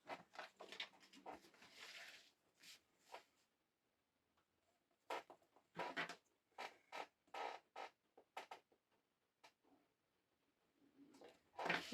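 An old chair creaks repeatedly under a seated person, with clusters of short wooden squeaks and groans separated by quiet pauses, close and faint.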